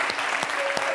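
An awards show audience claps loudly and continuously in a dense, steady burst of applause filling the room, with a thin murmur of voices underneath.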